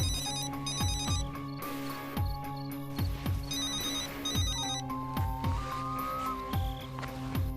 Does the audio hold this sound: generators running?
no